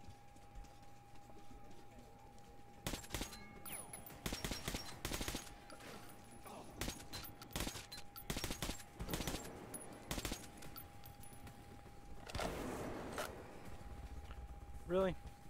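Gunfire in the first-person shooter game Metro, loud bursts of shots firing in rapid clusters through most of the stretch over a steady game hum, with a voice speaking briefly.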